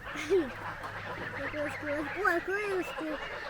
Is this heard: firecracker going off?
no